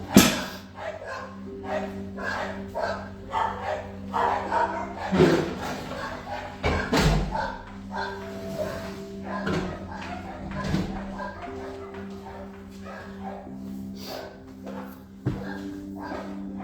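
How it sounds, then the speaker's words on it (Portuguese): Dogs barking outside a house, heard from indoors as scattered barks and yips rising and falling over several seconds, moderately loud, with some faint voice in the background. "para abafar um pouco do barulho dos cachorros"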